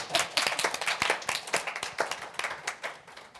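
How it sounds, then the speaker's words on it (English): Brisk clapping from a small group at a community meeting on mortgages and housing equity, quick overlapping claps close by, slightly uneven in rhythm, lasting a few seconds. "I want to clap for that."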